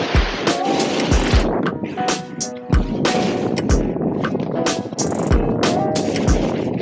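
A snowboard rides through the Monarch Mountain terrain park, with loud continuous scraping and rumbling of the board on snow, rhythmic thumps from features and landings, and wind noise close to the rider.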